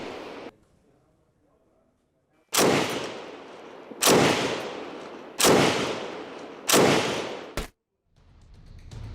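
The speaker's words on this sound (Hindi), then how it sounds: "नेगेव 7 मशीन गन किस तरीके से युद्ध में इस्तेमाल हो रही है, उसकी तस्वीर है।" A Negev 7 machine gun fires in combat in Gaza's Shuja'iyya, with four loud bursts each ringing into a long echoing decay, separated by pauses, and a final sharp crack.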